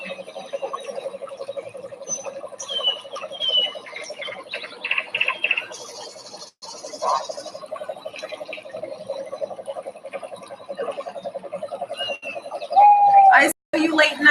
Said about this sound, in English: Oh, I love the birds.